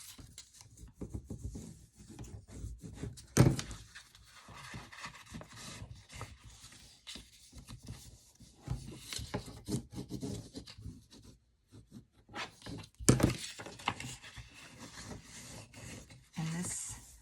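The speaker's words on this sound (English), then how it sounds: "Now we get to fold and burnish on all the lines." Paper being folded and burnished along score lines to form a gift card envelope box for a craft ornament, giving soft close rubbing and scraping strokes in uneven bursts, with a couple of sharper creasing sounds.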